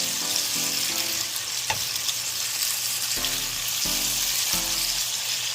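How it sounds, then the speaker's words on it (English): Salmon sears in a pan over fairly high heat, giving a loud, continuous sizzle with occasional crackles and a few low tonal hums in the background. There is no talking. "I've got it turned up a little high so I can get a good sear on it at first"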